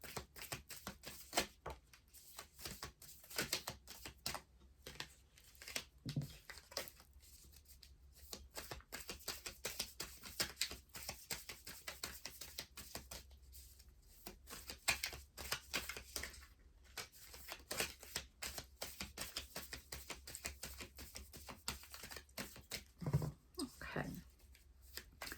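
Rapid, papery riffling of oracle cards being shuffled close by, steady flutters and soft taps continuing for a long stretch with occasional quiet voice sounds.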